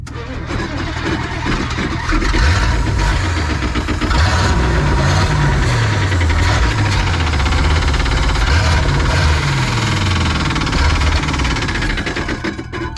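An old truck's engine runs steadily on throttle, a loud, continuous mid-pitched rumble with rising and falling revs throughout, close by, with no talk.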